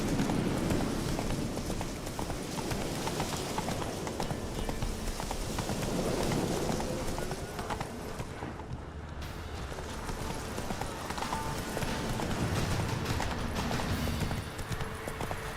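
Geralt's horse Roach trots in the Witcher 3 video game, with a steady rhythmic clip-clop of hooves running through a continuous rain-like wash. The hoofbeats ease briefly midway, then pick up again.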